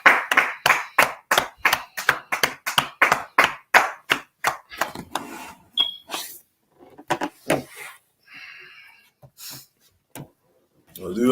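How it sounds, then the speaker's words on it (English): A class wraps up with quick, sharp, rhythmic group clapping, about three claps a second. It slows into a few scattered claps, then voices talk. "let's clap it up"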